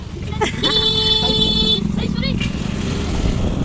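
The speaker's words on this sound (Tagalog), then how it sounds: "Napindot niya yung beep beep. Yung beep beep. Yung busina pala." A car horn sounds a sustained, loud honk lasting over a second, followed by shorter faint toots, with people talking over it, in Calatagan, Batangas.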